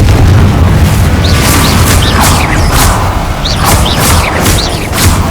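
Repeated loud fiery blasts of the Confringo spell in the Hogwarts Legacy video game, booming one after another amid a dense, continuous roar of combat effects.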